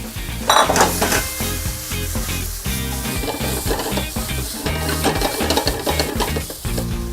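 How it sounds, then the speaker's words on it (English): Loud sizzling of kale stir-frying in a hot pan, with clinks and scrapes of a utensil stirring and a humming tone in the background. "I'm just going to add that in and just get stir frying, sautéing,"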